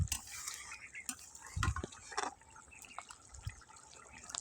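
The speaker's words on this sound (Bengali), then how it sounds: "পরিমাণ মতন জল দিয়ে মাছ কটা দিয়ে দেবো" Water is poured into a pan of rupchanda fish cooking with pumpkin, heard as quiet, scattered drips and light trickles with small splashes in an otherwise hushed kitchen.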